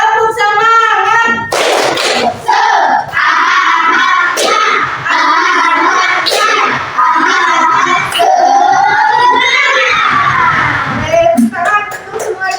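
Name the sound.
class clapping the 'tepuk semangat' clap chant again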